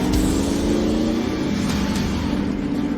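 Armoured six-wheel-drive amphibious vehicle built on an Alvis Stalwart, its powerful engine roaring and revving with a deep, loud, steady rumble that stays close throughout.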